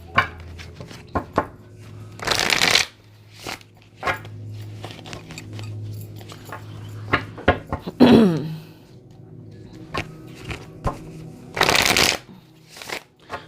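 Oracle cards are shuffled by hand in several bursts of riffling and slapping, with quiet pauses and soft handling sounds between them, close and fairly quiet.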